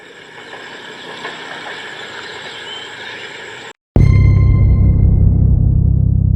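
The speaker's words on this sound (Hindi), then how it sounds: "थ्रू पास हो गई पाकिस्तान एक्सप्रेस।" An express train rumbles through a railway station with steady rolling noise, then after a brief cut a loud, deep engine drone with humming tones takes over.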